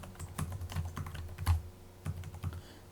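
Keys clatter on a computer keyboard in irregular bursts of clicks, fairly close and moderately quiet, with a steady low hum underneath and no voices.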